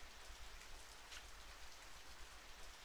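Steady rain falls in the video game Radiant Historia, a continuous soft hiss of drops hitting surfaces at an even, moderate level with no voices over it.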